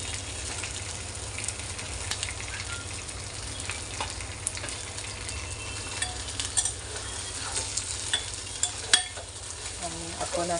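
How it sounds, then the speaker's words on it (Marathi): Eggplant stirred and sautéed in spicy masala for a village-style Maharashtrian curry, continuous close sizzling with scraping and clattering spoon strokes throughout. "मसाल्यात हे असं परतून घेत आहे"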